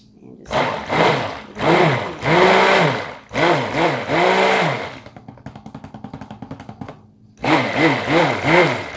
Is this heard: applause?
no